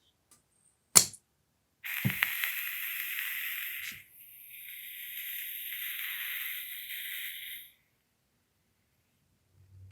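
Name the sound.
gas leaking from airsoft gun magazine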